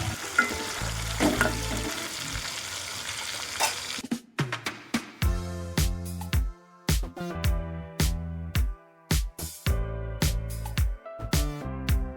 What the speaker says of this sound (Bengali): চিকেনগুলো আমরা গোল্ডেন ব্রাউন করে সুন্দর করে ভেজে নেব